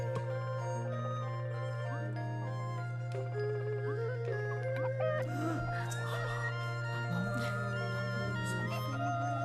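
Farmyard chickens in the video game Road to Guangdong cluck and a rooster crows over a steady low hum of game background sound, with no one talking.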